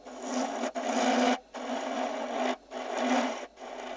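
Lathe tool taking light finishing cuts on the bottom of an epoxy resin and screw screwdriver handle, a close, steady scraping rasp in three long passes separated by short silent breaks.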